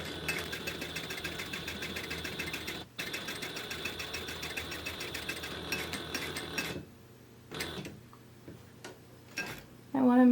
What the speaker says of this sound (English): I'm just going to leave long threads and I'm just going to start sewing